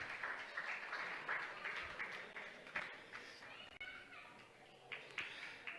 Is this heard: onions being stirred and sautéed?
no